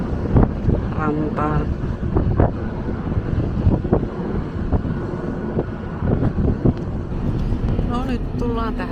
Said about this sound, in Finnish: Hiukan on tuulista täällä järvellä.